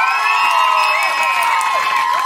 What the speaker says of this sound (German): jetzt bitte einen riesengroßen Applaus